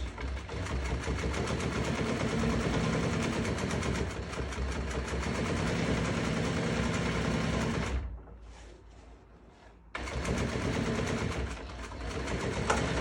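An industrial sewing machine stitches an upholstery fabric seam for a rock and roll sofa bed, running loud and steady with a continuous rapid motor whir, pausing briefly near the end, then starting up again.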